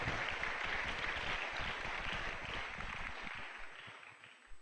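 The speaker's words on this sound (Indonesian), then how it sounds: "Tepuk tangan yang gemuruh untuk Aulia Cendekia" Sustained crowd applause at a religious gathering with a cleric's sermon, a dense continuous roar of many hands clapping that holds steady and slowly thins toward the end.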